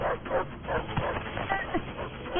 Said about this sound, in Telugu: కుక్క ఎందుకు అరుస్తుందో చూడండి